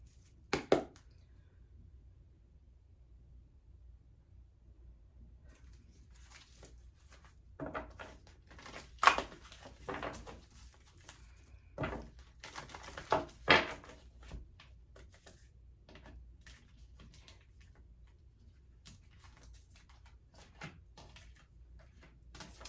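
Oracle cards being handled, shuffled and laid down in a quiet room: sparse, soft taps and brushing clicks come in scattered clusters, close by, with no talk.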